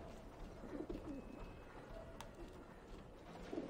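Pigeons cooing around a coop in the video game Alice: Madness Returns, soft repeated coos set against a steady ambient bed with no talking.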